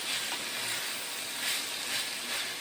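Onions and green pepper fry in a pan for a pesto pasta bake, giving a steady soft sizzle and hiss that swells gently a few times and stays fairly faint, with no voices.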